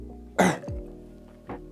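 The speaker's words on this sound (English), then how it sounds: "it's such a delayed cough" One sharp, harsh cough bursts out close up after a hit from a hash rosin vape cartridge, followed by a quieter second cough about a second later.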